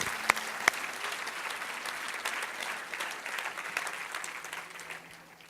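Audience applause at a French-language Christian gathering, a steady wash of clapping from a sizable crowd with a few sharp claps near the start, holding fairly even before tapering off slightly at the end, no voices over it.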